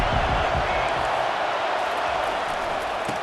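Stadium crowd noise from EA Sports College Football 25 forms a steady, broad roar of a large crowd throughout. A faint low voice talks underneath.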